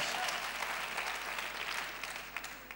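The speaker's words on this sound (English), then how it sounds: "she deserves a round of applause" A round of applause from a small audience rises and holds steadily across the moment, fairly even in loudness, with faint talk underneath.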